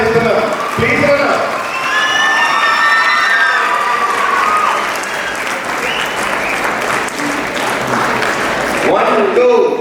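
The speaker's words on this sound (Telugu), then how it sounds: "ఇప్పుడు రామలింగారెడ్డి సార్ని సవినయంగా మీ అందరి నాన్ స్టాప్ క్లాప్స్ మధ్య, బలమైన చప్పట్ల మధ్య చాలా ఆహ్వానిస్తున్నాం." A college farewell celebration at Sri Sai Chaitanya Junior College in Madanapalli fills with loud, sustained applause and cheering from a large crowd of students, with shouts and voices running through the clapping for nearly ten seconds.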